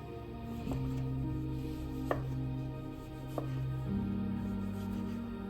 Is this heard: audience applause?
no